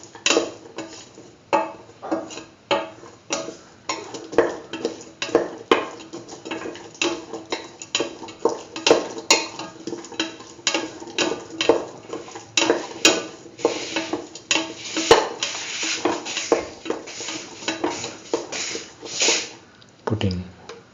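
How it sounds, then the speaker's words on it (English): Chickpeas, tomato and other dip ingredients are stirred and mixed with salt in a pan, giving repeated close scraping and clinking of a utensil against the metal in an uneven rhythm. "Thoroughly salt and mix."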